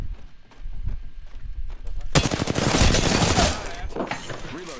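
Rapid gunfire in a shooter video game bursts out as a dense, loud fusillade of cracking shots midway through, following quieter game sounds and voices.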